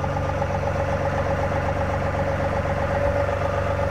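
A John Deere 2038R compact tractor idles in low gear with a steady, even diesel rumble. The engine is close and constant throughout, and no voices are heard.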